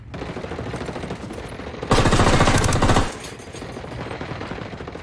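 A dense burst of automatic gunfire in the tactical shooter Ghost Recon Wildlands, loud and sustained for about a second over a steady background of game ambience.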